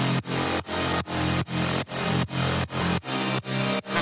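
Thick, buzzy layered saw synthesizer chords pulse in a steady rhythm, each sustained hit ducking sharply from sidechaining before the next, loud and dense with no voices.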